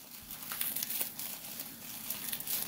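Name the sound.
tearing through heavily taped bubble wrap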